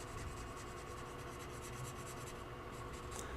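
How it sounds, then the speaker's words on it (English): A pen shades in a drawn parallelogram with a faint, steady scratching and rubbing of the tip on paper, continuous and close, with no voices. "I'm just going to shade it real quick to show you what I mean"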